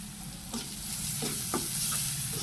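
Turmeric powder being stirred into a shrimp curry with taro stolons in a pan: steady sizzling with several scraping strokes of the spatula, close and fairly loud.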